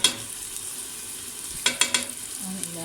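Tomatoes sizzle softly in a pan with a few scraping stirs, quiet and close, no voices.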